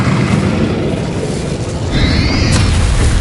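A spell burst in the Hogwarts Legacy game, the Incendio fire spell, gives a loud whooshing rumble that swells, with a brighter crackling flare near the end.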